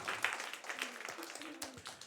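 Children clapping at a church service, a faint, scattered patter of hand claps with uneven, sparse hits over about two seconds, with a few soft voices underneath.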